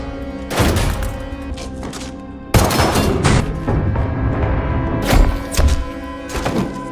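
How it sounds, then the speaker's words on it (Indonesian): Bursts of gunfire crack and boom in heavy volleys, with sharp impacts and rapid shots over a tense rumbling background. "mereka kembali dihujani tembakan oleh Budiman dan kedua anak buahnya"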